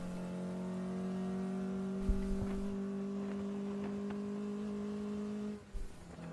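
Mazda Miata race car at a ChampCar endurance race on track: a steady, moderately distant engine drone with strong harmonics briefly drops and recovers near the end as it upshifts, with no talking.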